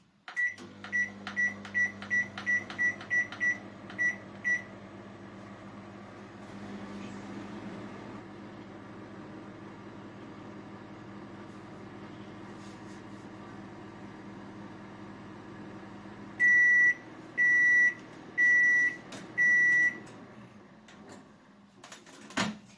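A microwave oven hums steadily while heating a baking soda solution, opening with a run of short beeps and ending with several longer beeps, with no talking.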